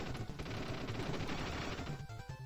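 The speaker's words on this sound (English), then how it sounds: "if I spam the button, I shoot even faster" Gunfire from shooting in the video game Abobo's Big Adventure, a dense, loud, continuous barrage of rapid shots layered over the game's music, with no speech.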